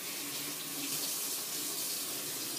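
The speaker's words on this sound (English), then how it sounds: "rinse it off." Tap water runs steadily as winemaking equipment is rinsed under it, a close, continuous splashing hiss with no pauses.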